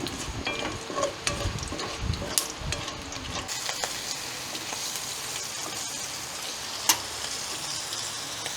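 Tuyo, dried fish, frying in oil: a steady crackling sizzle with scattered pops and spatters, close and even, one sharp pop near the end, with no voices.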